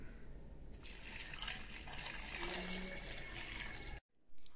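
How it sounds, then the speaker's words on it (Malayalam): Water poured into taro leaf curry in a pressure cooker: a steady, soft rushing pour lasting a few seconds, then a sudden stop, faint and close. "ഇനി ഇതിലേക്ക് കുറച്ച് വെള്ളം ഒഴിച്ചു കൊടുക്കാം."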